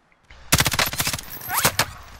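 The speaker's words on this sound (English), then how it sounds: "Oh shit, I'm getting shot from the right." Rapid automatic gunfire in the Warzone video game, a dense burst of close shots starting sharply and continuing for about a second and a half, followed by a couple of sharper isolated shots and whizzing ricochet-like sweeps.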